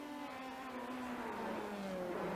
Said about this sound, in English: No, it still sounds like his pit limiter's on.